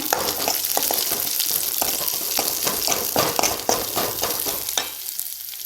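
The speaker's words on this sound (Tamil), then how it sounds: "சின்ன வெங்காயம் ஒரு கைப்பிடி சேர்த்துங்க நெய் சேர்த்து நல்லா வதக்கிங்க" Small onions sizzle and fry steadily in hot ghee in a pan, with repeated scraping and stirring taps throughout, close and fairly loud.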